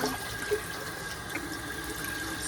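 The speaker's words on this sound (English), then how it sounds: "I love washing off my rice." Rice is washed under a running tap in a hotel room sink, a steady hiss of flowing water with faint splashes, close up and without talk.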